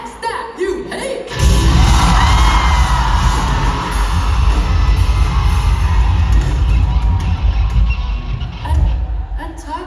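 Concert crowd in Vancouver at a show cheering, yelling and whooping, a loud sustained roar that surges after a brief opening and holds steady throughout.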